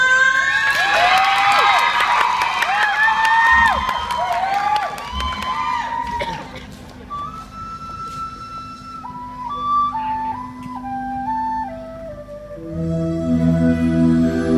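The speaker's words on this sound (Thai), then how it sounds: "ขอเสียงปรบมือเพื่อเป็นกำลังใจให้พวกเราหน่อยได้ไหมคะ" Cheering and shouting from a school audience, heavy with children's voices, at a school band performance during a competition. A loud burst of whoops and yells rises at the start, then fades under sustained tones and musical notes.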